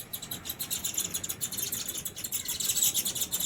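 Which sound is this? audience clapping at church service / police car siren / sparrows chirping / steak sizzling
sparrows chirping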